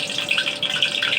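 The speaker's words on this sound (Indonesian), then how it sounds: "Dan saya tuang minyak untuk menumis" Cooking oil is poured into a pan for sautéing, making a brief, close, bubbling trickle with light hiss.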